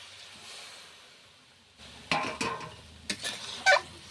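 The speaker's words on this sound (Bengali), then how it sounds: "এর মধ্যে একটু জল দিয়ে দেব। জলটা কিন্তু আমার এটা গরম জল।" Hot water goes into a pan of well-fried mutton-fat jackfruit curry. After a quiet stretch come short hissing sizzle bursts and light utensil clatter, close and moderately loud.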